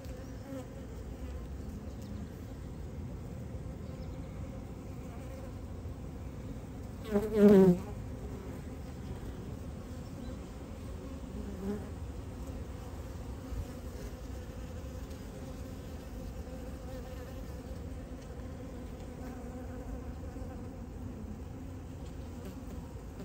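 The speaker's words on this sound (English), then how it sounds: "Always lovely to watch a hard-working mother bee like that." Honey bees buzz at an open beehive during an inspection, a steady close hum running throughout, with one brief, louder buzz as a bee passes near the middle.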